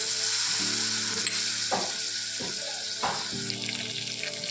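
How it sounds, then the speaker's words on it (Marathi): Spices for a prawn masala sauté in a pan, a close, moderate sizzle with a few sharp scraping stirs, under steady background music. "सगळे मसाले चांगले परतून झाले की त्यामध्ये मी कोळंबी घातली"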